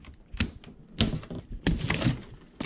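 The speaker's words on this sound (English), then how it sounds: "we gotta cut these giant zip ties off" Snips and clicks of giant zip ties being cut off the box of a 2019 Santa Cruz Hightower mountain bike, three or four sharp, close cuts with rustling plastic in between.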